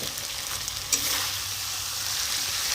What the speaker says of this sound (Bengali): এখানে আমি একটু ভাজা আলুগুলো আগে দিয়ে নিই